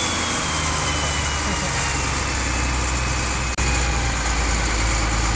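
A water pump engine runs steadily against a pressure relief valve on a small hose, a constant loud drone with a brief dip near the end.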